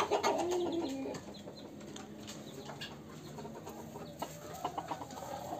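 Silkie chickens on a farm, two hens and a rooster, clucking and cooing in a steady low murmur of soft calls close by, with no talk.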